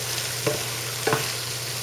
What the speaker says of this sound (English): So we're just going to deglaze the pan a little bit